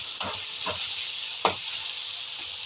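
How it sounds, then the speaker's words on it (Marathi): Fresh coriander frying in hot oil hisses loudly and steadily up close, with a couple of sharp stirring clinks and scrapes near the start, no speech. "तेलात फ्राय केली ना कोथिंबीर की त्याची टेस्ट खूप छान येते"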